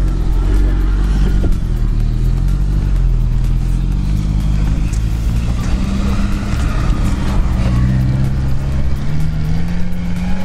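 A car engine drones loud and steady as it drives over sandy hills, its pitch rising and falling with throttle amid rumbling wind and road noise, no voices over it.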